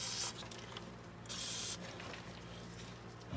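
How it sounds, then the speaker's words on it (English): A spray can gives a couple of short, quiet squirts onto a sway bar link on an MGB GT under restoration, each a brief soft hiss in a quiet workshop. "just give this a little bit of another squirt"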